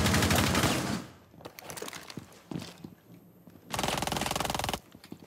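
Loud bursts of automatic gunfire from a weapon in the shooter game Rainbow Six Siege, one dense volley at the start and another about a second long near the end, with scattered clicks and thuds between them.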